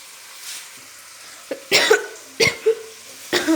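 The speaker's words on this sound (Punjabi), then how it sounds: "ਖਾਂਸੀ ਆਉਣ ਲੱਗੀ ਮੈਨੂੰ" A few sharp coughs in quick bursts, close and fairly loud, over a faint background hiss.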